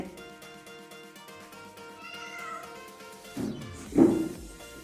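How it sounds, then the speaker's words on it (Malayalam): A kitten gives a couple of short, loud meows near the end, following a stretch of soft tonal background sound. "അങ്ങനെ പൂച്ചക്കുട്ടി വന്നിക്കണം കേട്ടോ"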